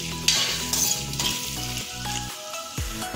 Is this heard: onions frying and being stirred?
yes